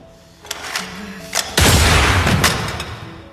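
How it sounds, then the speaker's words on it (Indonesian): A burst of loud gunfire: a few sharp cracks, then a heavy blast of shots with a lingering roar, close and forceful. "Dan dengan cepat Okju langsung menembak Choi dengan senjata cadangan yang masih ia simpan."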